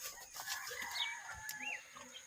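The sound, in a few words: chickens, native and Rhode Island hens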